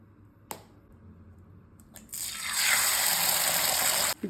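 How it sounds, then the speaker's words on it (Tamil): A little oil poured into a pan for a half-boiled egg: a sharp click, a quiet pause, then about two seconds of steady, fairly loud hissing pour that cuts off abruptly. "லைட்டாக எண்ணெய் விட்டுக்குங்க."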